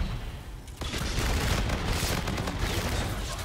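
Rapid bursts of gunfire and booming blasts in a shooter video game, loud and dense, filling the whole stretch after a brief quieter start.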